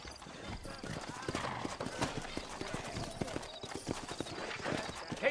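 Horse hooves clip-clop steadily in the frontier town of New Austin in the video game Red Dead Redemption. The rhythmic, moderately close hoofbeats continue the whole time over a constant background wash.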